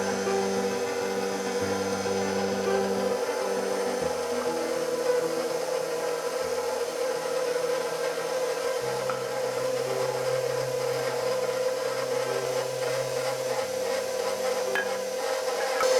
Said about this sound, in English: I'm going to turn the mixer on slow and then drizzle in the milk